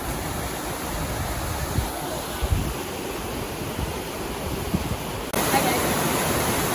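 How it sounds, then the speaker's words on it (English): Waterfall spray on a Colorado mountain trail, a broad, continuous roaring wash of falling water close by, with brief bumps of handling noise and a jump in loudness near the end. "Water's splashing all over me."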